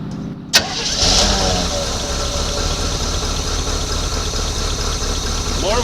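A 1986 Chevy C10 that sat for 15 years cranks with a sharp catch, then settles into a loud, steady idle that rumbles on close by with a faint knock.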